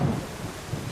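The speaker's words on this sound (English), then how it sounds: "Another thunderstorm." In the video game Solarpunk, a thunderstorm rumbles low while rain hisses steadily, the brief burst starting with a stronger low roll that fades into soft patter.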